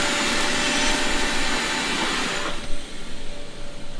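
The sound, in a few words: vacuum cleaner cleaning out a tractor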